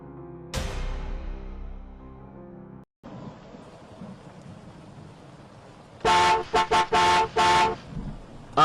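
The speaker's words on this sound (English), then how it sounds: "Irene heard it honk." A car parked on gravel gives a quick burst of several short, loud honks in a choppy rhythm, following a low engine rumble.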